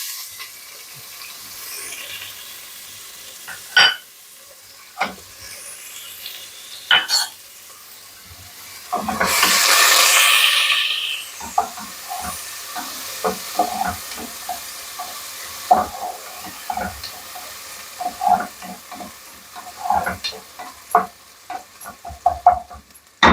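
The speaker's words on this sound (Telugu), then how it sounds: "ఇలాగా చాప్ చేసుకున్నా ఇందులో వేసి వేపుకుంటాను." Chopped onion hits hot oil in a pan with a loud burst of hiss that lasts about two seconds. Quieter sizzling, scattered clicks and stirring scrapes continue around it.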